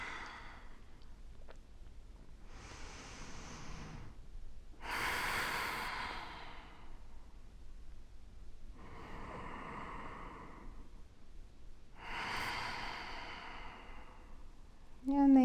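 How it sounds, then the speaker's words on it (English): Slow, deep breathing held during a yoga pose in a bone-density routine, several long airy inhales and exhales spaced a few seconds apart, fairly close and soft, with no talking. "And then we're going to do 3 more breaths"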